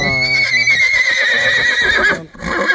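A horse at a livestock market whinnies loudly and close, a long high quavering neigh lasting about two seconds, followed by a brief pause and a short breathy snort.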